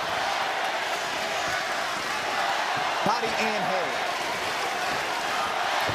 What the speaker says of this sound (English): The crowd is electric here in the Huntington Center, Toledo, Ohio.